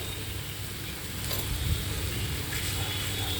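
Masala frying in oil in a pan for a mushroom and capsicum curry, stirred steadily with a soft continuous sizzle and scraping, close and moderately quiet, with no voices.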